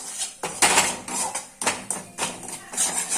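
A spoon stirs dabeli masala with asafoetida in a pan over a low gas flame, making close, repeated metallic scraping and clinking strokes in an uneven rhythm, no voices.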